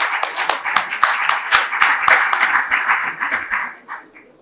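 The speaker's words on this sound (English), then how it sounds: "Let's give her a round of applause." Applause from an evening conference audience at Davos, a dense burst of many hands clapping close and loud, thinning out and fading over the last second.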